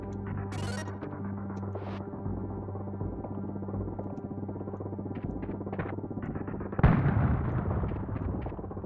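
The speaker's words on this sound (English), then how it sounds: "It's a very satisfying explosion sound in this game." Explosion in the SNES game Blackthorne: a loud bomb blast bursts out late, over a steady droning, rhythmic game soundtrack that plays throughout with no voices.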